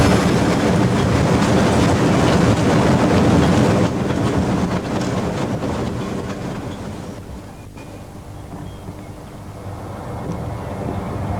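Georgetown Loop Railroad oil-burning steam locomotive number 40 being fired up in a misty valley, giving a loud, steady rumbling roar with rattling clatter that eases somewhat partway through, with no talking.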